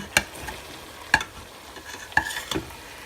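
Meat is frying for chili verde until crispy and browning, a soft, faint sizzle punctuated by several sharp, close spatula taps and scrapes at irregular intervals, with no voices.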